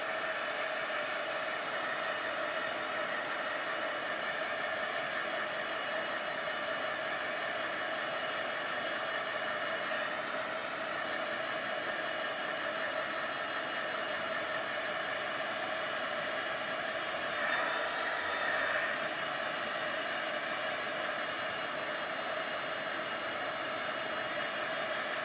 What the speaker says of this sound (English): Hit it with the heat tool.